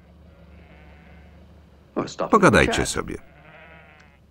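A loud, close sheep bleat bursts out in the middle, wavering for about a second, with a quiet spoken phrase around it.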